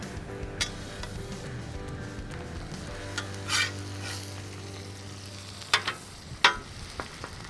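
Butter frying on a hot Blackstone griddle, a steady close sizzle with a low hum underneath and a few sharp scrapes and clinks from a spatula, no voices.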